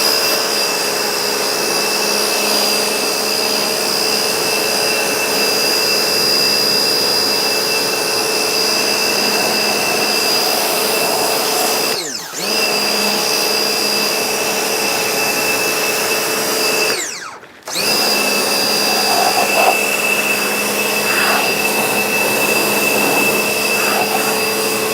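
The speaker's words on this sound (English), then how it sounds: "I need to just jet wash all this mud off here at the back" Pressure washer jet-washing mud off the back of a Proton Saga during restoration, a loud, steady hissing roar running continuously with two brief dips where the spray cuts out.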